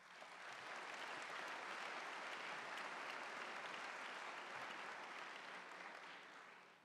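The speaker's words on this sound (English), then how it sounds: "I think that deserves a big round of applause." A convocation audience fills a hall with steady, sustained applause that holds evenly for several seconds before beginning to fade, with no talk over it.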